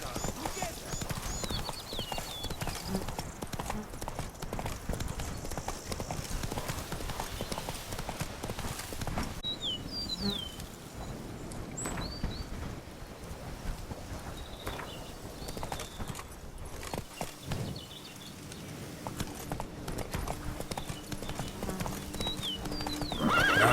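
Roach, Geralt's horse in The Witcher 3: Blood and Wine, clip-clops along at a steady gallop with a whinny or two, the hoofbeats close and continuous over game ambience.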